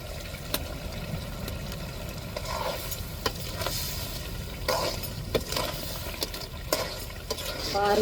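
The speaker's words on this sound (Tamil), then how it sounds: "அப்படியே நம்ம கிண்டி விடும்போது அந்த மசாலாலாம் அந்த நண்டில் இறங்கி" Crab gravy bubbles and fries in a pan as it is stirred, a dense close sizzle with scattered sharp utensil clicks and scrapes throughout and no voices.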